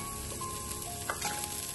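Butter sizzling as it melts and heats in a pan for Sri Lankan vegetable noodles, a steady close crackle with a few louder pops and spits partway through, no talking.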